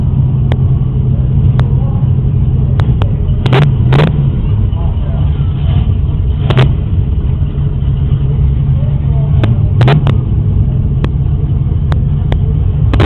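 A car engine runs hot during an enduro drive, a loud, constant close rumble with a steady low throb, punctuated by scattered sharp clicks and knocks throughout.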